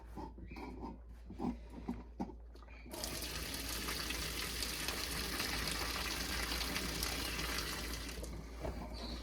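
Tap water gushes into a pot in a steady, loud rush after a few seconds of quieter clattering, then it tapers off near the end.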